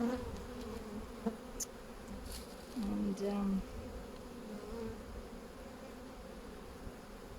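Honey bees buzzing steadily around an open hive during a spring inspection, a continuous close drone with a few louder passes of single bees flying near.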